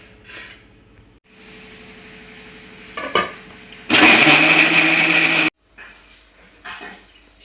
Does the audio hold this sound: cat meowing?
no